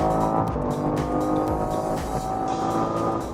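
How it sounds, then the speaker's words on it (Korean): A BMW X3 M Competition with 510 horsepower revs hard while driving, giving a loud, continuous engine roar with rising and falling pitch and a busy, aggressive rasp, close and without speech. "엔진 RPM이 한 7000 정도 됐을 때 레드존을 치는 이때 사람을 정말 미치게 만드는 소리들이 납니다"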